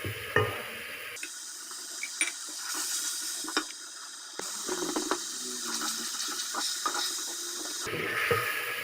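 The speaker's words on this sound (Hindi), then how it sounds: "थोड़ा सा पानी ऐड करूँगी। ताकि ये अच्छे से मसाला हल हो जाए" Water poured into a cooking masala of tomato and onion for Pakistani-style beef chana dal, a steady sizzling pour with stirring clinks, moderately close and continuous with no talk.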